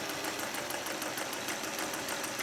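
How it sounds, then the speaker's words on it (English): A sewing machine stitches a dart, its fast steady mechanical chatter carrying evenly and close with rapid regular ticks throughout. "sew the same dart, starting in the middle again and sewing down"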